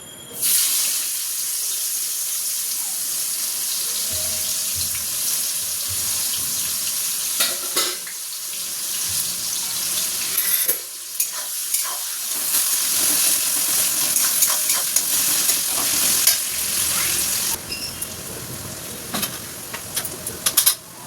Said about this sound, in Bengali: চলো এবার চিকেনটা রান্না করি। কুচানো পেঁয়াজ দিয়ে দিলাম